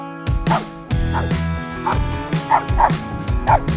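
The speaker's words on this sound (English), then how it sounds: "As you can hear, the neighbor's dog is fearlessly coming after me." A neighbor's dog barks repeatedly at close range in a series of loud, yappy bow-wows with short gaps between them, some with a whiny edge.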